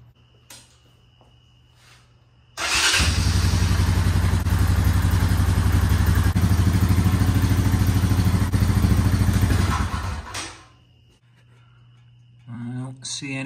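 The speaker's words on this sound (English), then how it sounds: "Let's start it up." A 2000 Honda Foreman ATV engine cranks and catches, then runs at a loud, steady idle for about eight seconds before shutting off; voices are heard before the start and again after the engine stops.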